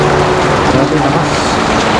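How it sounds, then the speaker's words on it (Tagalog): Heavy rain drums steadily on surfaces during a night motorcycle ride, a loud, dense hiss that holds constant throughout, with a low vehicle hum beneath it. "Ang lakas ng ulan."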